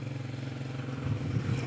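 A motorcycle engine drones nearby, its low rumble swelling slightly louder toward the end as it passes on a rural road.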